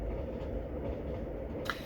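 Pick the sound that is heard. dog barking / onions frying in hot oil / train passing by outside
train passing by outside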